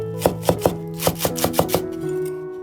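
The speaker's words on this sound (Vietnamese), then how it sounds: "đập dập phần gốc hành sau đó cắt nhỏ." A knife chops spring onion bases on a cutting board in eight crisp, evenly spaced strikes, close and clear, followed by a short quiet tail.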